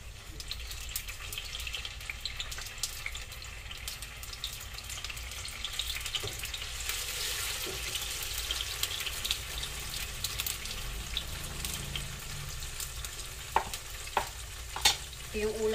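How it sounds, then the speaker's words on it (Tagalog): Cubed tofu frying in a pan gives a steady, fairly quiet sizzle throughout. A few sharp clinks of a utensil against the pan come near the end, and no one speaks. "Hinihiwa ko lang ng pa-cubes, tapos nilalagay ko sa kawali kasi ipiprito ko."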